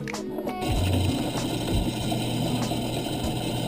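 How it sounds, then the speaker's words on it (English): A drill boring a hole through the stem of a restored 1986 Kuwahara BMX bike, giving a steady close mechanical whir with grinding, ratcheting texture and brief changes in load. "Okay, so I successfully got the hole drilled in the stem."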